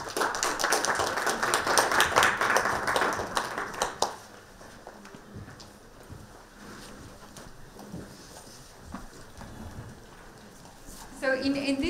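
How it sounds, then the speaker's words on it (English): An audience applauds to welcome panel speakers at a forum on inclusive business in Indian agriculture and food. The clapping is loud and dense for about four seconds, then fades to quiet room noise, and a brief sound returns near the end. "let's give them a warm applause"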